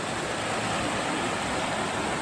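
Mountain river flowing beside a rural hillside home, a steady broadband rush of water with no pauses, close and fairly loud, with no talk.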